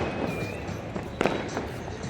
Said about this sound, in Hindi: हमारे यहाँ संक्रांति की इवनिंग पे सब लोग ऐसे पटाखे जलाते हैं